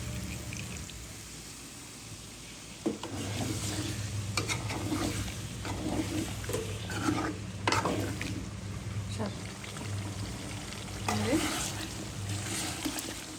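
Potatoes sautéing with chicken gizzards in a pan, a soft continuous sizzle with scraping stir strokes, and a voice talking quietly over parts of it.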